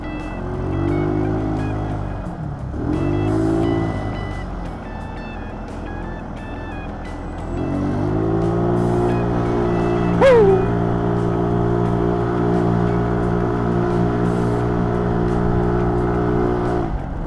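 A Yamaha Mio scooter with a clutch lining problem climbs a steep road, its engine droning close and steady, with the revs dipping and rising several times and a sharp squeal partway through.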